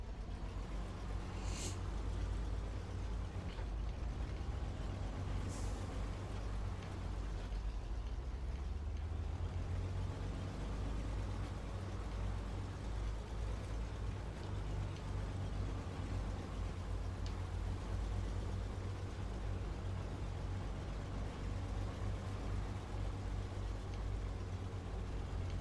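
An older Western Star truck's low, steady engine drone rumbles throughout in the video game SnowRunner, with a brief hiss of released air near the start and a constant background hum.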